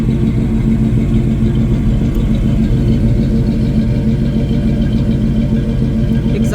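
A 1977 Chevy K20 pickup's exhaust rumbles steadily at idle, a deep continuous drone up close with no other sounds.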